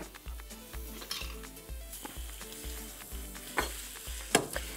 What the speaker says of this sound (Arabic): غادي نقلي شي شويه الكبده في الزيت